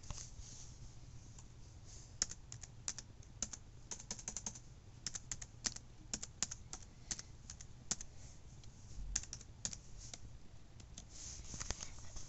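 Fingers tap out a password on a computer keyboard in quiet, uneven bursts of clicks over a low steady background hum, with short pauses between keystrokes.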